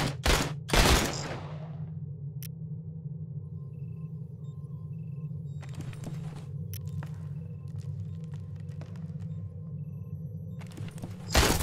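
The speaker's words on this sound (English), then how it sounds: "Suppressive fire!" Machine-gun fusillade in the sci-fi squad game Aliens: Dark Descent: loud bursts open the scene, then a steady low rumble carries sporadic shots and clatter, with another heavy burst near the end.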